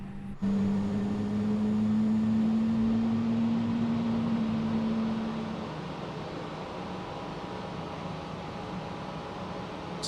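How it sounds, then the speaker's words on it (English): Airbus A320 engine spooling up in a flight simulator at Heathrow: a steady rising whine with a low hum and broadband rush, holding for several seconds before easing to a quieter constant drone. "I love hearing the engine start."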